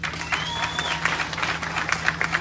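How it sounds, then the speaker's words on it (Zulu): Applause from mourners at a funeral, a steady wash of many hands clapping for about two and a half seconds, with a faint whistle-like tone and low hum beneath. "simbonge baba uNala nala akhona simshaya ihlombe futhi again"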